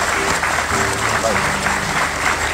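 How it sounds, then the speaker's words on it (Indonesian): A studio audience at a television talk show claps in sustained, dense applause, loud and even throughout, with a brief spoken word over it. "kan tepuk tangan dulu lah buat Mbak"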